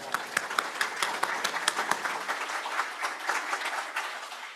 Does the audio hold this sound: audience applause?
yes